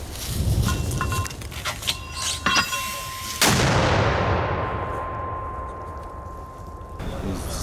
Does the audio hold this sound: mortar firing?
yes